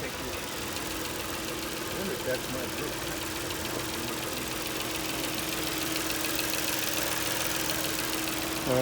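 An auction vehicle with a dead alternator idles nearby as a steady, even engine drone with a slight knocking rattle, while voices talk faintly over it.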